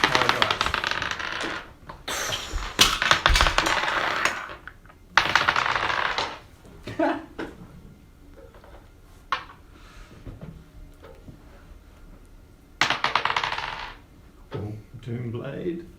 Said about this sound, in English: And I'll roll some dice.